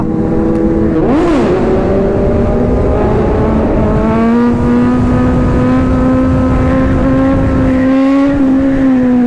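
Sport motorcycles, a Kawasaki Ninja ZX-6R, a Kawasaki Z900 and a Suzuki GSX-S750, rev hard on a street, loud close engine notes rising and falling with a sharp swell as one passes early, then a sustained high whine.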